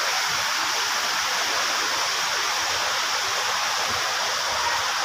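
Cold water rushing steadily at Buhi, Camarines Sur, a dense, even broadband roar like a stream or small falls, continuous and close throughout with no voices.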